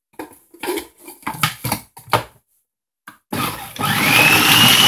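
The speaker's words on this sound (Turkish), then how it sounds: "Evet soğanlarımızı da çekiyoruz şimdi." Onions being processed for a spicy Turkish ezme salad: a few clattering knocks and scrapes, then a food processor motor whirs up loudly and runs steadily to the end.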